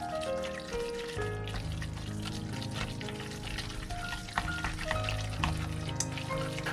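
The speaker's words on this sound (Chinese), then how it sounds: "用筷子充分搅拌均匀。" Chopsticks stirring wet meat filling for pepper and pork dumplings: a continuous squelchy, sloshing churn that plays under light background music.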